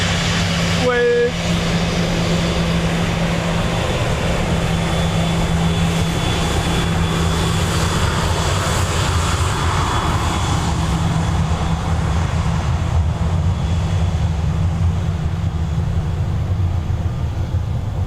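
Airliner departing Dublin Airport, a loud, steady roar of jet engines that holds for the whole stretch, heard from outdoors with no talking over it.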